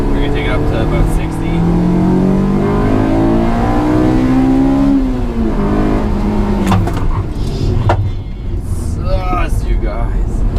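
Honda S2000 with racing brakes accelerating up to about 60 mph for a brake test, engine note rising steadily through the gears, loud and close from inside the car, with a shift and wind noise building.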